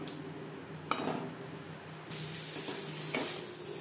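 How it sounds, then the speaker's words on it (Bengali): Bottle gourd leaf paste being stirred and dried in a wok over a high to medium flame, a soft sizzle with a few scraping stirs, close and quiet. "এভাবে নাড়াচাড়া করে ড্রাই করে দেব যতক্ষণ না পর্যন্ত কড়াই থেকে ছেড়ে আসছে"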